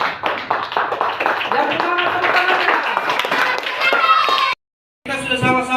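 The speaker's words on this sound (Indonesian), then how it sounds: "tepuk tangan untuk kelompok 2" A classroom claps for group 2's craft of a flower vase or pencil box, a busy spell of student clapping amid children's voices, cut by a brief silence before the noise resumes.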